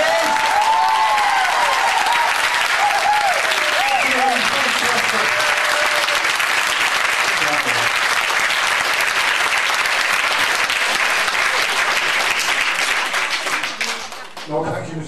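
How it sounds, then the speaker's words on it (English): An audience at a talk on justice for the Palestinians in Liverpool applauds loudly and steadily for over ten seconds, then the clapping fades out, with a voice speaking briefly over the start. "I think we should give you another round of applause."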